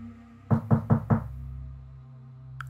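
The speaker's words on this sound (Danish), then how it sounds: "så banket det på døra" Four quick, evenly spaced knocks on a wooden door, close and clear against a quiet background, followed by a pause.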